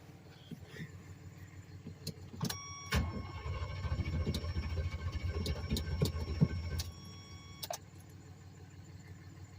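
A Cummins engine in a 1985 Suburban cranks and catches, turning over once before settling into a rough, low diesel idle of about five seconds under a faint whine, then cutting back to quiet.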